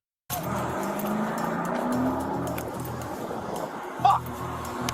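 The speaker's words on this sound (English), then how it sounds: "Sanchez jumps into the front of the patrol vehicle and simply drives away" A stolen police patrol car pulls away, its engine and tires roaring at moderate distance, with a brief squeal near the end and faint talk in the background.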